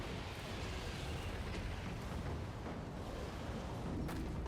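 Booming cannon fire from a battle in Total War: Warhammer 3, cannon mounted on a Vesper, with dense continuous rumbling explosions and bursts throughout, loud and close.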